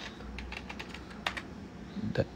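Fingers typing a command on a computer keyboard, a run of light, uneven key clicks ending in a couple of firmer strokes, close by against a quiet room hiss.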